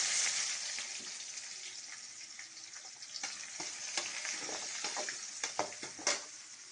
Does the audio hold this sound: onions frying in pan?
yes